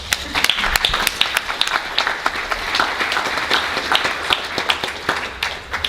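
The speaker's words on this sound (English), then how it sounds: "And that is really to be applauded," A Comic-Con panel audience applauds in a dense, steady crowd clapping that stays loud throughout, with a faint voice underneath.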